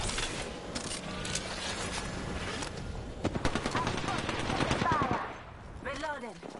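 Gunfire in the video game Apex Legends crackles in rapid automatic bursts over a steady background rumble, with a voice speaking in between.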